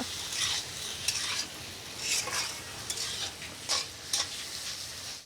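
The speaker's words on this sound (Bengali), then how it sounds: "পুনরায় আবার সব কিছু মিলিয়ে একসঙ্গে একটু কষিয়ে নেব" Bottle gourd peel is stir-fried in a pan with garlic, onion, green chili, ginger and tomato, producing a steady close sizzle under repeated scraping strokes of a spatula, with no voices.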